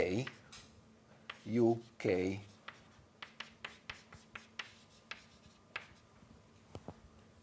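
Chalk or marker writing on a board during a solid state physics lecture, a run of short taps and strokes after a few seconds of speech, close and fairly quiet.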